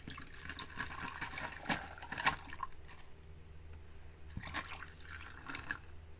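Water is poured into a cup to mix Javy coffee concentrate, a quiet, steady trickle with a few brief splashy swells.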